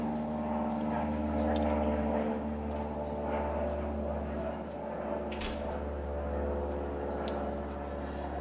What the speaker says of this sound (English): So here, let's just see where we're firing at.